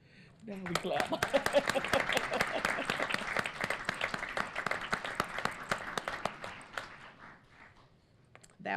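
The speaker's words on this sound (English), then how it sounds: "Now we clap." A school audience claps after a high school varsity choir sings Christmas carols at a school board meeting, a dense round of applause lasting several seconds before fading, with voices mixed in.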